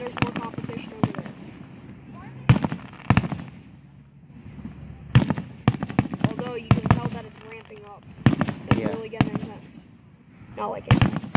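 Rapid-fire fireworks burst in quick clusters of sharp cracks and pops, some nearby and loud, others fainter, with people talking intermittently between the explosions.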